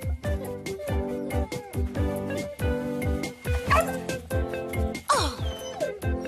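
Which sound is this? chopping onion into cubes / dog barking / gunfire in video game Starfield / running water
dog barking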